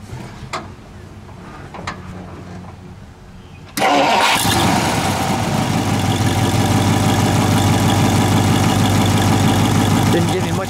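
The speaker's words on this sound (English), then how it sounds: "Well, let's fire this one, shall we? We'll let it idle. We'll give it a little rev." A 1955 Studebaker Commander Regal fires up after a few quiet seconds, catching abruptly and settling into a loud, steady idle close by.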